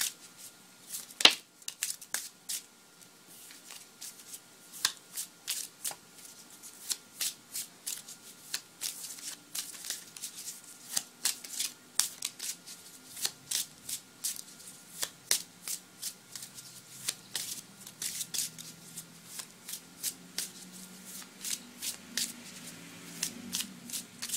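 Tarot cards are shuffled by hand in quick, crisp riffles and flutters, with sharp slaps between them. The sound is close and fairly quiet, with a low murmur underneath.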